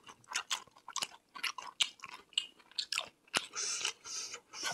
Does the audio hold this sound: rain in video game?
no